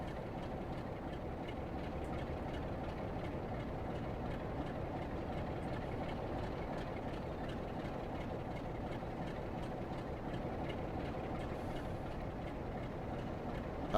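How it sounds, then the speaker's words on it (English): A train rolls steadily in Train Sim World 4 on the Blackpool Branches, giving off a dense, even rumble with faint rhythmic clicks, moderately loud and unbroken, with no voices. "I hear trains this time"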